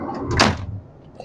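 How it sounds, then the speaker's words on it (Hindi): Sliding door lock on a Pakistan Railways train carriage being worked, one brief metallic rattle and slide followed by a faint click, close by, with no speech. "ये स्लाइडिंग डोर है, इसका ये लॉक है"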